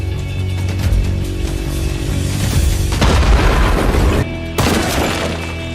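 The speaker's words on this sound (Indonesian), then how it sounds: "melempari bom ke arahnya" A bomb blast in the film Beyond the Reach (2014) booms out heavily, with a loud sustained rumble and crash peaking midway, a brief break, then a further burst of debris noise.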